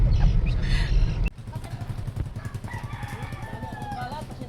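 Hens crow and cluck at close range on a rural roadside stop during a long motorcycle ride, loud at first, then fainter clucking over a low idling rumble.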